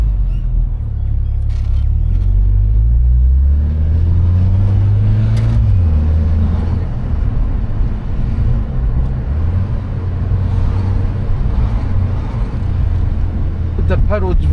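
A Japanese import car accelerating with quick paddle-shift gear changes, its engine droning low and steady with rising and falling pitch as gears change, while people talk in the cabin.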